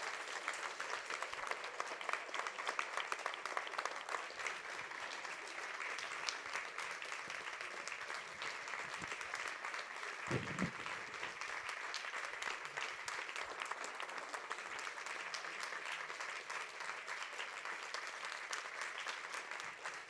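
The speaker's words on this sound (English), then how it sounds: "give these people an astounding applause for what they achieved this morning" A large audience gives a sustained standing ovation at a live talk event, dense steady clapping filling the room for about twenty seconds with a brief low thump midway.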